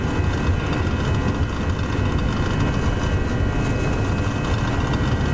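Simulated Airbus A319 jet engines roaring steadily at high thrust during a takeoff roll in X-Plane 12, a dense continuous rumble with whining tones above it and no talking.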